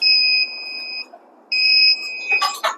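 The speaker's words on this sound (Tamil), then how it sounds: "பஸரும் அடிக்க ஆரம்பிச்சிடும்." Buzzer alarm on an alcohol-sensing robot sounds two loud, steady high-pitched beeps of about a second each with a short gap between them, followed by a few brief clattering clicks.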